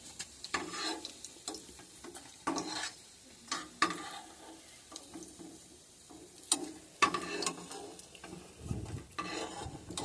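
Fish roe fritters frying in oil and being scooped out: a soft background sizzle broken by repeated close clinks and scrapes of a spoon against the pan, with no one talking.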